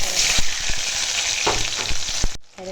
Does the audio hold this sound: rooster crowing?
no